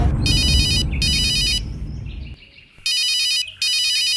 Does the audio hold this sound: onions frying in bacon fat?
no